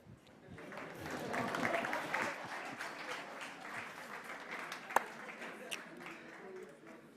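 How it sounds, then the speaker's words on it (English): Audience clapping at an evening conversation event with a guest, a steady spread of applause holding for several seconds with a light murmur of voices beneath it. "You may clap."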